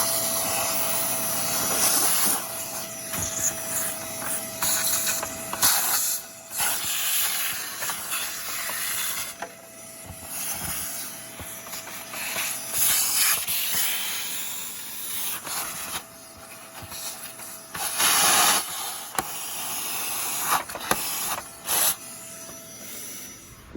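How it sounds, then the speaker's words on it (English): A vacuum hose sucking dirt out of a Hoover Windtunnel bagless vacuum, a loud steady airy hiss and whoosh that surges and dips as the nozzle moves, with clattering bits of debris and brief pauses, no talking. "I need to vacuum out all this stuff"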